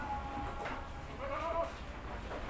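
An Etawa goat bleats in its pen with a couple of wavering cries, heard moderately close over a constant, heavy background hiss and rumble.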